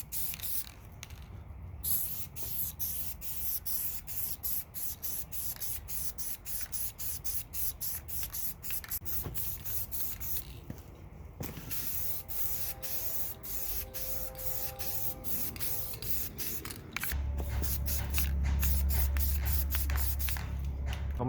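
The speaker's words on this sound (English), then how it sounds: "So we're ready to paint. I'm going to start with a super light coat." An aerosol can sprays paint onto a 1:10 Jeep Wrangler RC crawler body, a close, continuous hiss broken by short pauses between passes, with a low hum in the background toward the end.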